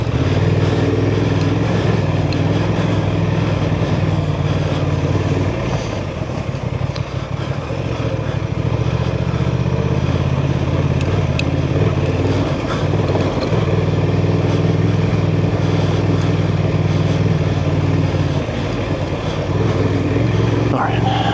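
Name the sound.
Honda Transalp 750 motorcycle riding off-road trail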